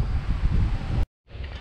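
Loud wind rumbles against the microphone during a bicycle tour around Lake Balaton, Hungary, cutting out abruptly to silence for a moment before the gusty roar returns.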